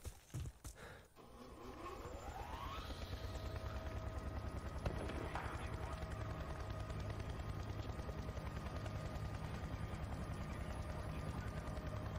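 A helicopter in the video game Battlefield Bad Company 2 drones steadily with a loud continuous rotor throb, joined early by sharp gunfire-like bursts and sweeping engine tones.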